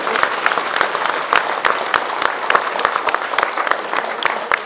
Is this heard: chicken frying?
no